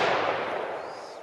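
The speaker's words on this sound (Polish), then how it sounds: "Petardkę." A thrown firecracker bursts, a loud sharp blast whose noisy tail decays over about a second, with no talk.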